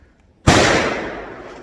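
A single loud firecracker bang bursts in a forest after a moment of quiet, its sharp crack trailing into a long fading rumble.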